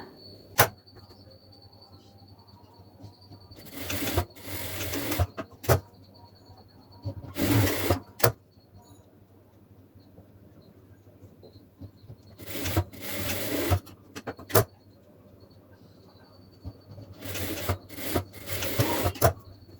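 A sewing machine stitches the folded back of a blouse in a tailoring class, running in several separate loud bursts of a few seconds each, with quiet pauses and a faint steady hum in between.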